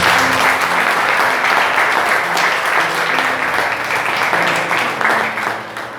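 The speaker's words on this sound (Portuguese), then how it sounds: "Que as palmas louvem o Senhor." Loud, sustained applause from a church congregation fills the room after a sermon on Ezekiel 37, a thick rush of clapping hands that carries steadily and tapers slightly at the end.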